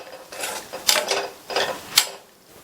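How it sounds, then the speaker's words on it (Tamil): A spoon scrapes through a pan of bean stir-fry as grated coconut is mixed in, making about four close, rhythmic scraping strokes with sharp metallic clicks. "தேங்காய் துருவல் சேர்த்துட்டு நல்லா ஒரு தடவை மிக்ஸ் பண்ணி விட்டுருங்க"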